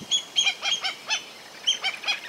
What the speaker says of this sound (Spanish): es un lugar donde hacen sus paradas los chorlos migratorios